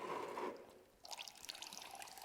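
Fluid drips and trickles from the gearbox of a Ford Focus RS, a steady pour that gives way to scattered splashes and drips close by.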